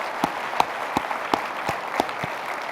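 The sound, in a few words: audience applause for convention staff and volunteers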